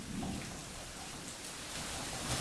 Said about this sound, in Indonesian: Kelihatan petir geluduk-geluduk, hujan deras